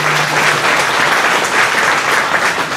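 Steady audience applause at a talk aboard the submarine USS Silversides, honoring a 97-year-old Women's Army Corps veteran; dense, even clapping from a crowd that fills the whole moment without voices.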